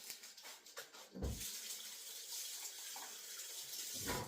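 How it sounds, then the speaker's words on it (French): Hands are rinsed under a running kitchen tap while baking a cake, steady water splashing close by for several seconds after a few brief drips and clatters. "là je me suis rincé les mains"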